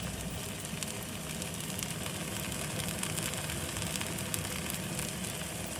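Kimchi pancake batter spread thin and pressed into a hot oiled frying pan gives a steady, dense sizzle that holds at an even level throughout, with no voices.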